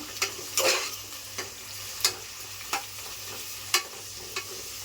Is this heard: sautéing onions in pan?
yes